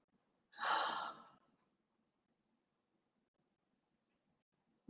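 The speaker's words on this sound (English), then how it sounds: "Just take a deep breath." A single deep breath, drawn in and let out once in a calm, quiet room, clear and close for about a second, then near silence.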